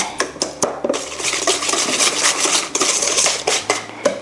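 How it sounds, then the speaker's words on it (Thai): Softened butter and sugar being stirred together in a mixing bowl for ice cream cookie dough, a steady run of scraping, rubbing strokes with small clinks of the utensil against the bowl, close up and without talk. "คนแค่พอเข้ากันนะคะไม่มีน้ำตาลหลุดๆออกมา"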